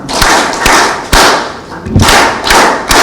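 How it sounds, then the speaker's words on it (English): A few loud, close claps in uneven bursts from an audience at a taskforce report event, broad and punchy with short pauses between them. "Can we give them a kilo clap?"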